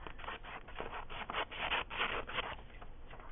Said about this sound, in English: So I'm just going to start cutting to trim up